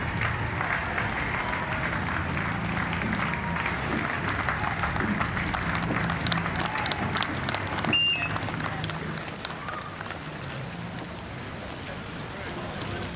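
Spectators applaud the losing Westminster School rowing crew at Henley Royal Regatta in the Fawley Challenge Cup, a moderate, steady clapping from the riverbank that fades slightly while a commentator talks over it.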